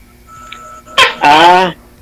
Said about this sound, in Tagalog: Grabe yung tunog ng tuko